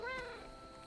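A cat meows briefly at the start in the Marvel video game Midnight Suns, a short rising-falling cry, followed by faint game ambience.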